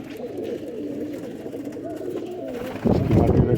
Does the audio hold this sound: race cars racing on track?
no